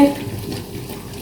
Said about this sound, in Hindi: बस इसको स्टर करते रहें कंटिन्यूसली ताकि ये लगे नहीं।